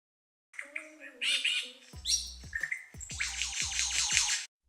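A lyrebird, the Australian songbird famed for mimicry, calls in a varied stream of chirps, whistles and bright trills, joined partway through by a run of lower rhythmic clucks, fairly close and with no talk.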